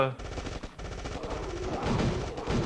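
Rapid automatic gunfire from the hero character in the mobile game State of Survival, dense repeated bursts filling the whole moment over a steady game soundtrack, loud and continuous.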